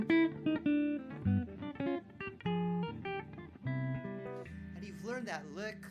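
A jazz guitar plays a 2-5-1 lick with chords, a flowing run of ringing chord voicings and single notes. A voice may come in briefly near the end.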